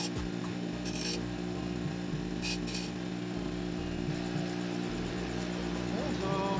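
A drill bit is sharpened on a Lotus 6-inch bench grinder. The motor hums steadily throughout and short bursts of grinding contact break in close by. Speech comes faintly over the hum.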